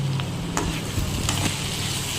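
Broad beans and onion cook in a pan with a steady, close sizzle, while a few soft scrapes and taps of a spatula stir through the frying.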